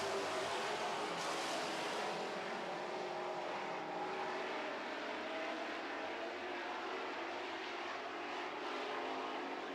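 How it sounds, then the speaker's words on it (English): Super Trucks racing around a race track, engines droning steadily at mid distance in a continuous roar, with no talk over it. "All right, getting ready to go Super Truck racing here."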